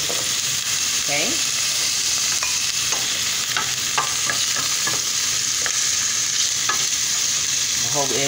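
Onions frying in a pan, about a cup and a half, give a steady broadband sizzle throughout, with a few light scraping stirs and faint clicks over the top.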